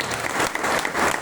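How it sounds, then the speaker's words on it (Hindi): A crowd of listeners at a sales talk claps together in dense, loud applause that fills the whole brief moment without letting up. "सर लगता है कि आप लोग अभी सो गए, एक बार ताली बजाइए"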